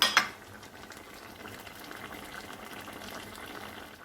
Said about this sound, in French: Ça mijote. Voilà, ça mijote bien.